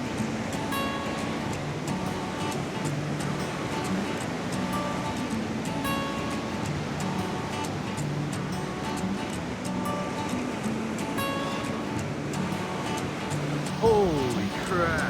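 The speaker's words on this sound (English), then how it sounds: "You guys can't see how big this waterfall is." A large waterfall in Yosemite National Park roars as a steady, broad rushing wash of falling water that stays even in level throughout, with faint tonal noises riding on top.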